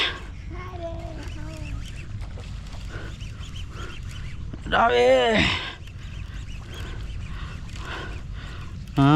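A chicken gives a few loud, drawn-out squawking calls, one brief cry early and a longer one midway, while a person speaks nearby.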